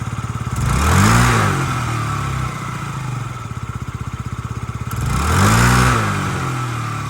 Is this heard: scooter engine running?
yes